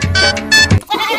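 A goat bleating loudly and close by, two drawn-out wavering calls in quick succession, followed by a brief lower sound.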